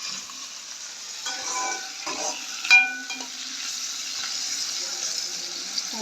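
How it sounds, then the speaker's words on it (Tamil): Curry leaves frying in oil in a pan for an egg curry, giving a steady, fairly quiet crackling sizzle with a few stirring scrapes and one brief metallic clink partway through. "கருவேப்பிலை ரம்பையில் போட்டு நம்ம எண்ணெயில் நல்லா வதக்குவோம்."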